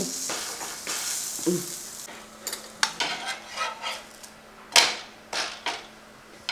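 Spatula stirring and flipping food as it roasts in ghee in a pan for a Kerala-style breakfast, with a steady soft sizzle under scattered scraping and clinking strokes, one sharper scrape near the middle.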